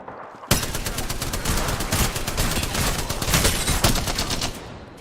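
Rapid, loud video game gunfire rattles almost nonstop, dense overlapping bursts like a firefight at close range, with no voices over it.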